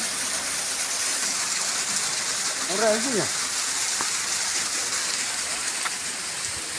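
Water from a source pours steadily into a farm well, a constant, loud rushing wash that fills the whole stretch. A brief whistle-like chirp and a few small knocks rise over it near the middle.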